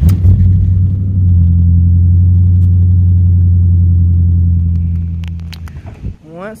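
A Ford Mustang engine rumbles steadily at idle, a loud, deep continuous drone held for several seconds before it fades and a brief voice comes in at the end.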